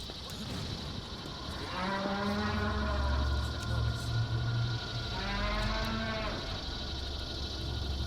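A two-legged Gekko robot in Metal Gear Solid 4 lets out two long mooing calls, each rising and falling over about a second, with steady game noise and a low rumble underneath.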